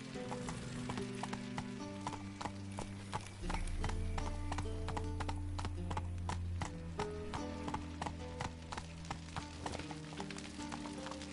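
Roach, the horse in The Witcher 3, gallops with a steady, close clip-clop of hooves beneath a continuous game music bed, and a brief neigh may come through.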